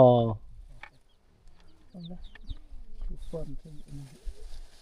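Chickens cluck in a rural Lao village, a brief clear call near the start followed by faint scattered fowl sounds while people talk nearby.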